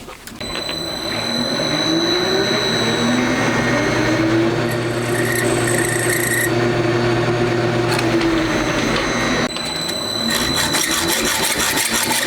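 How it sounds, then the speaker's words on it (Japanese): A steel shaft for a motorcycle engine tensioner being cut by a power tool in a workshop, a loud continuous whine with steady tonal ringing that runs for several seconds, dips briefly, then resumes. "テンショナー用のシャフトのカットですね"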